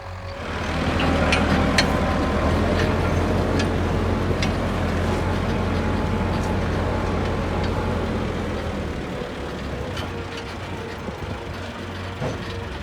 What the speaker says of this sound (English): both tractors working in tandem. One is brush cutting and the other is plowing directly behind